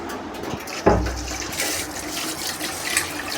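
Scrubbed rice is rinsed under normal tap water, with a splashing pour near the start and then a continuous running, sloshing wash.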